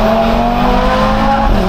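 A tuned Audi RS3 sits close by with its engine held at a loud, steady high rev, a dense roar with a buzzing tone and no voices over it.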